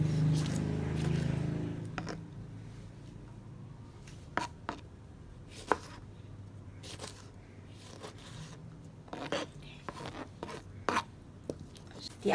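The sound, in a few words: chopping onions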